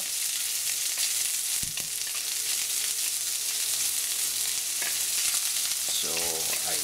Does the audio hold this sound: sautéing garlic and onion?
yes